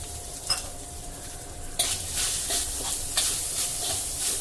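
Grated coconut sizzles in ghee in a pan on low heat, with the spoon scraping and stirring in several distinct strokes over a soft, steady fry, close up and without talk.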